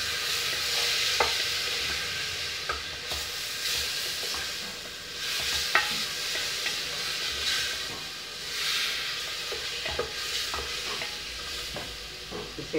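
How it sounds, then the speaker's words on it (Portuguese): Beans sautéing in a pan for a simple home lunch, a steady close hissing sizzle with occasional light clicks of stirring against the pan, running unbroken without speech. "vou refogar o feijão"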